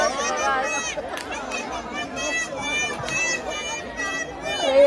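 Packed Mhasa Jatra fair crowd, continuous loud babble of many voices at close range, with a few sharp bursts and scattered calls cutting through the dense chatter.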